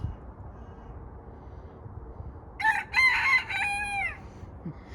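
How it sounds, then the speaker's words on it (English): A rooster crows loudly once in a cottage garden during the autumn molt, a rising then falling call standing out after quiet background chicken sounds. "The chickens want to come out."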